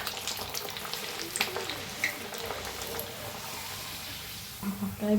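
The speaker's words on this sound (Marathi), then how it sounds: "तळून दाखवते तुम्हाला. तेल बी ठेवलेलं आहे, गरम झाले चांगलं." Carrot puri dough pressed into hot oil to deep-fry, giving a steady soft sizzle and bubbling close by that swells louder at the very end.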